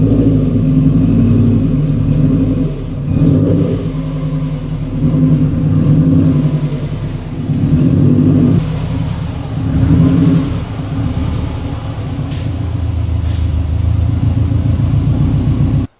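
A 500 HP Subaru WRX engine runs up close with a loud, deep rumble, swelling and easing in repeated rev-like surges over a steady throb, with no one speaking.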